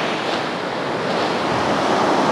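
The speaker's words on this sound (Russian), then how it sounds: "послушать звук прибоя." Loud, continuous roar of stormy sea surf breaking on the central beach at Anapa, with wind rushing across the microphone and no voices.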